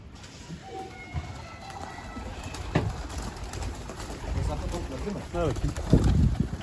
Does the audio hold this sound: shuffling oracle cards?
no